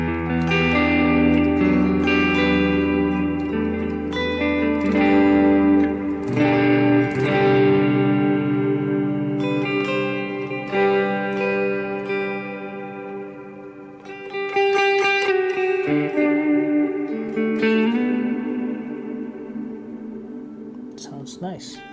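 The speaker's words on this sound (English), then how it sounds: "the mostly common used reverb here is on the PodGo is the Ganymede" Electric guitar chords and single notes played through a Line 6 POD Go's Ganymede reverb ring out with lush, lingering reverb tails that wash over each phrase, played fairly loud.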